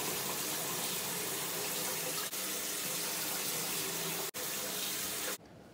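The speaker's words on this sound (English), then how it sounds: "we're gonna go ahead and do 3 cups of 500 milliliters of warm water just right from your tap" Warm water runs steadily from a household tap into a container, a constant close splashing rush that cuts off abruptly near the end.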